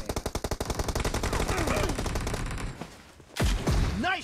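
Rapid automatic gunfire in PUBG Mobile, a fast evenly spaced burst of loud close shots that blurs into a continuous roar, followed by a sharp louder blast and a rising whine near the end.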